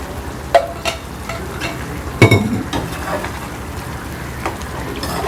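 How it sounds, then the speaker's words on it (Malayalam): Theeyal curry bubbling and simmering in a pot gives a soft steady hiss and sizzle beneath occasional sharp clinks and knocks of a utensil against the vessel, close by, with no talking. "ഇത് 5 മിനിറ്റ് ഒന്ന് തിളച്ചോട്ടെ."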